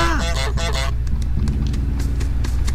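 Geese give several loud, close honks in quick succession at the start, then a low rumbling background carries on with only faint, scattered calls.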